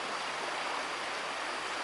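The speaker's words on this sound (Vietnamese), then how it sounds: "Đây dòng suối rất đẹp này." A stream flows over a wide bed of rocks on a hot day, giving a steady, close, unbroken rush of water with no voices.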